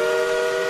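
A steady, sustained train whistle sounds loud and close, holding one bright tone with harmonics for its full length and no voices over it.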